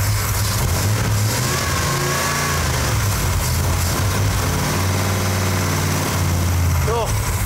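A rebuilt Chevy Silverado engine idles steadily right after start-up, a loud, close, even rumble with a low drone that stays level throughout, and a voice briefly cuts in near the end.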